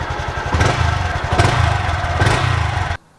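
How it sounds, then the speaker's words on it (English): A Honda Grom MSX 125 with a single-cylinder four-stroke engine and stock exhaust idles close by. The putter is steady and loud, then cuts off abruptly near the end. "when I start this bike up, it doesn't really excite me"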